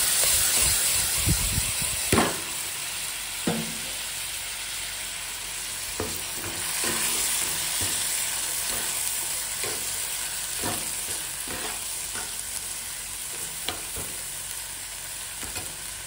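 Raw rice goes into a hot pan with a steady sizzle and spatula scrapes every second or two, all fairly quiet and close, with no voices.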